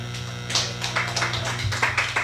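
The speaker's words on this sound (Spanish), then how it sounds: "Den un aplauso al Señor." A church congregation gives a round of applause to the Lord, scattered claps and taps in quick uneven bursts over a low steady hum, close and moderately loud.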